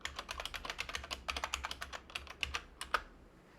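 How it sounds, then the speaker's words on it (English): A password is typed on a computer keyboard during a Linux Ubuntu software install: a quick, close run of soft key clicks in uneven bursts, then a short pause and a final few keystrokes. "When prompted, put your password in."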